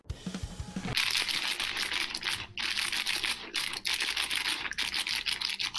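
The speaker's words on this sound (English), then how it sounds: "I was manipulating my pretzel bag in the exact rhythm of the opening theme" A pretzel bag is crinkled and crumpled in a rhythmic pattern close to the mic, dense crackling bursts separated by short pauses, moderately quiet, no talking.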